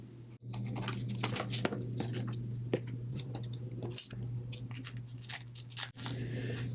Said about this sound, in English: I'm going to cut that away.